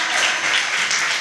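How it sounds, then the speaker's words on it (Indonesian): An audience at a youth anemia-awareness dialogue event claps together in a dense, steady burst of applause, close and fairly loud, with no talking over it. "Boleh dong tepuk tangannya dulu untuk kita semua."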